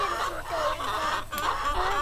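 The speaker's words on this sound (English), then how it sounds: "Oh, look at all the chickens." Several chickens cluck continuously close by at a farm during egg gathering, overlapping murmurs and short calls forming a busy, steady flock sound.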